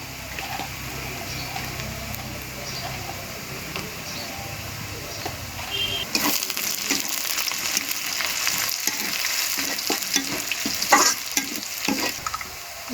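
Beef cooks in a pan in a village kitchen with a continuous sizzle. Spatula scrapes stir the meat as it browns, and the sound grows louder and busier partway through. Faint talk can be heard in the background.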